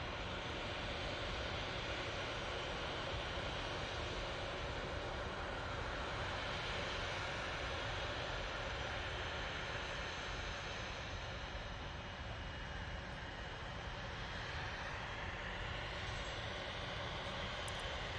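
Jet engines of a Cathay Pacific Boeing 777-300ER at Manchester Airport give a faint, steady broadband roar heard at a distance with no talk.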